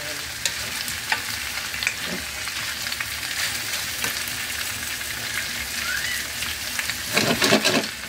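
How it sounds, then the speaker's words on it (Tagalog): Pork igado being stirred as it fries in a pan in a home kitchen, a steady close sizzle with scraping stir strokes throughout and a louder burst of stirring near the end. "Tapos halu-haluin lang natin siya."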